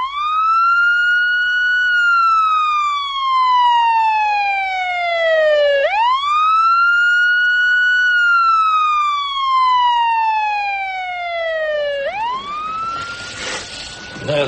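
An ambulance siren wails in long, slow rising and falling sweeps, loud and close. It repeats about every six seconds, with a burst of noise near the end.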